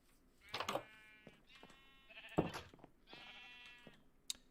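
Minecraft sheep bleat several times in a row, their wavering nasal calls varying in pitch and fairly faint, with a few soft clicks between them and no speech.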